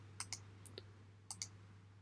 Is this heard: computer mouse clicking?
yes